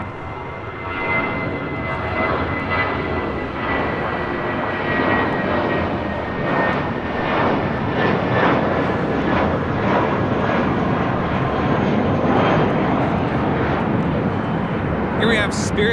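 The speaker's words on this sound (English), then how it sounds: "Here we have Spirit Flight 507 taking off to Las Vegas on an A320." Spirit Airlines Airbus A320 taking off at LAX, a steady broad jet roar sustained at moderate distance throughout, with faint talk at the end.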